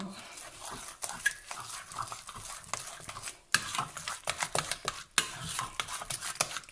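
A spoon stirs a jelly mixture for a strawberry cheesecake in a bowl. The stirring comes as irregular clinks and scrapes, sometimes in quick clusters and at other times briefly paused, fairly close and moderately quiet.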